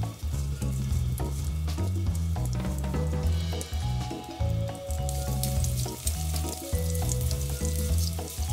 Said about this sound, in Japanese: パン粉をまぶして多めの油で焼きます。